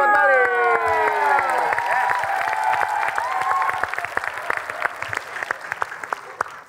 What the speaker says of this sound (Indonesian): Tepuk tangan Bali.